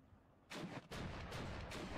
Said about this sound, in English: when the artillery fires over here,